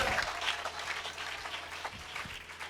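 A church congregation applauding, a quiet and steady wash of clapping from many hands throughout, with no voices rising above it.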